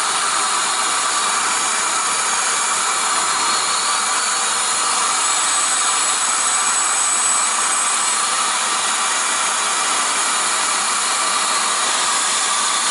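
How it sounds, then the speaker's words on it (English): Engine of a 1992–2002 Toyota Corolla running at a steady, loud whir while the idle speed is adjusted. The tone holds even throughout, with no voices over it. "Now idle speed is lower, and then I accelerate it again."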